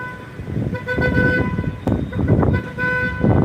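Car horn honking on a street, several short tonal toots sounding over traffic rumble and road noise, moderately loud and close.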